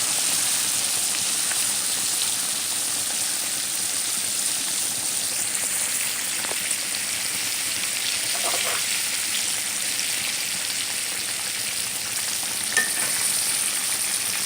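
Green tomatoes fry in oil with a steady, dense sizzle and crackle that stays even and close throughout, with no talking.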